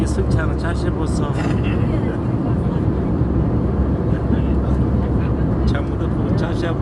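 Steady, loud broadband roar of an airplane cabin in flight, continuous engine and air noise throughout, with a voice speaking briefly over it.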